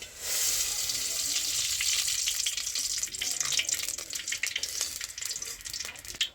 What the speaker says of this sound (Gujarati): તો જો ગેસ ઉપર મૂકી દીધું છે તપેલું, અને એમાં હવે આપણે નાખવાનું છે તેલ.